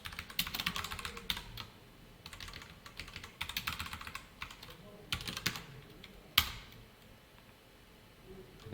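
Computer keyboard typing in bursts of quick, irregular keystrokes with short pauses, one sharper key hit partway through, fairly close and alone without voices.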